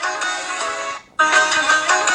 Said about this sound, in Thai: ต่อไปนะเสียงโทรศัพท์ก็น่าจะ เป็นเสียงเวลาลิงโทนเข้าอะครับ